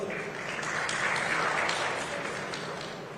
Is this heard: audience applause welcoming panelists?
yes